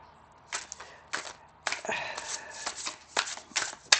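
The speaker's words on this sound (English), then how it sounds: "I'm just shuffling while I'm talking." A deck of cards is shuffled in several quick riffling bursts, each followed by short pauses, close up and crisp.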